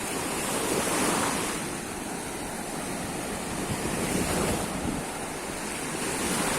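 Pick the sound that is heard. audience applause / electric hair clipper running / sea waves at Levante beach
sea waves at Levante beach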